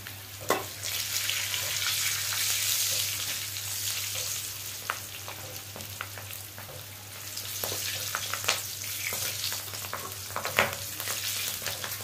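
Green chillies fry in hot oil with cumin and fenugreek seeds, a continuous close sizzle broken by occasional stirring scrapes and light pops, over a steady low hum.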